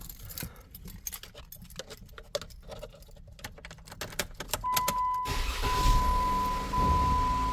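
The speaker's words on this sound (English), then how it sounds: "So let's start the Jeep up." Keys rattle and click for several seconds, then a recently bought Jeep with its check engine light on cranks and fires up, settling into a steady, loud idle with a thin whine over it.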